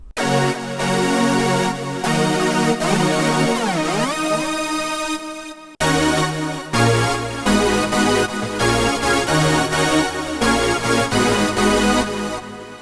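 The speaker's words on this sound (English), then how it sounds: "So that's the sample bass sound, that's AWM2." A deep sample bass on a Yamaha Montage synthesizer, AWM2 engine, plays a melodic line with portamento, notes gliding smoothly into one another, loud and continuous with a brief break midway, no voices.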